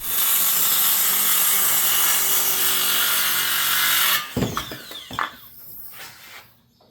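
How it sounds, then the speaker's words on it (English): Power saw cutting wooden boards to length, a loud, steady, close whine and rasp of the blade through wood for several seconds, then the motor cuts out and winds down with a few knocks and clatters of the board. "I'm going to go ahead and cut the bad spots off this and do the same with this one"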